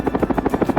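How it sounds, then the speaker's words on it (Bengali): Cartoon yellow helicopter gives a fast, steady whup-whup of rotor beats, close and fairly loud, in a brief burst with no voices. "আবার হেলিকপ্টার এসে হাজির"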